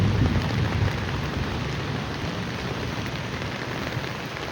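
Heavy typhoon rain pours steadily in Bulacan, a dense, continuous hiss and patter on surfaces with low rumbling underneath, loud and unbroken throughout.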